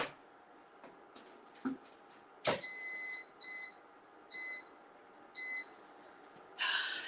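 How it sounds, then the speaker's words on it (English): An air fryer being set to 400 degrees gives a series of short electronic beeps, a single tone and then several repeated pairs spaced about a second apart, over quiet kitchen background. "I'm gonna put this in the air fryer."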